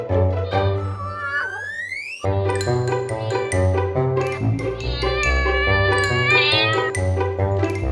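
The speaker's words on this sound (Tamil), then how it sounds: "பூனை எப்படி கத்தும்?" A cat's rising, drawn-out meow sounds near the start over cheerful children's music with chimes, part of a farm animal sounds lesson, and the music carries on loudly afterward.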